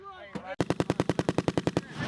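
Marines fire a machine gun on a firing range in a rapid, even burst of about fifteen loud, close shots, after a brief shouted voice.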